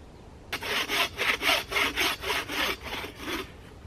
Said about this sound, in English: it's back to the old school method of the bow saw.